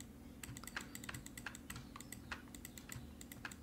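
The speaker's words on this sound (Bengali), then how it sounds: "ঘন ঘন ক্লিক করে আপনাকে এটা ঠিক করে নিতে হবে।" Rapid, crisp clicks come in an uneven, quick series at close range while editing in Photoshop, quiet against a low steady hum, with no voices.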